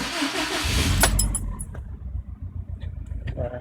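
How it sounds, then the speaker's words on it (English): The engine of a 2006 Subaru WRX STi cranks and catches with a short burst near the start, then settles into a low, uneven idle at close range, with a few small clicks afterward. "Just went ahead and started the car."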